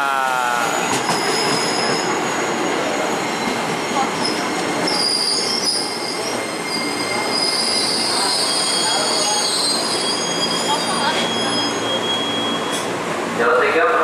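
TM 6000 commuter train arriving at a platform on the Cikarang line, with loud high-pitched wheel squeals over a constant rolling rail roar and faint clicking, close and sustained throughout.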